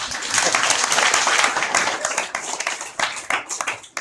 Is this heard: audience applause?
yes